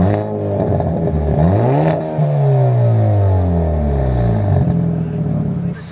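A 2023 Hyundai Elantra N with a manual gearbox pulls away after the clutch is released, its engine note climbing steadily through a loud, close rev sweep with no speech over it.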